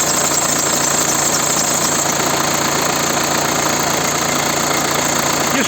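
Car engine idling with a noisy accessory drive belt and pulley, giving a steady, loud mechanical whir and faint whine over the engine hum, continuous and close with no voices.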